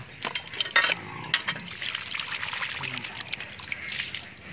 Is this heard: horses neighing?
no